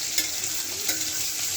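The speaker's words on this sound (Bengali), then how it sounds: "দেখ মাছটা ভাজি হতে থাকুক" Pieces of katla fish fry in hot oil, giving a continuous close, bright sizzle with a couple of sharper spits and crackles, steady throughout with no talking.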